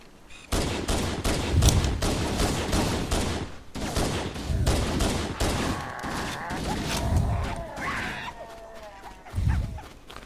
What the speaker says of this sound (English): I think it's official name, something like the MA5B. But in Halo we just call it the assault rifle